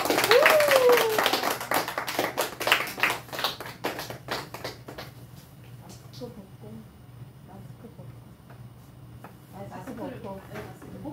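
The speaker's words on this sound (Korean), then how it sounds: "우리 박수 한번 해볼까요?" A church or fellowship gathering in Korea claps for a young student staff member about to leave to study in Philadelphia, a burst of hand claps that thins out over several seconds while voices speak over it.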